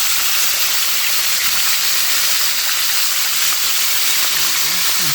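Meat browning in a pan for a Southern New Year meal gives off a steady, close sizzling hiss that holds evenly throughout, with faint background voices near the end.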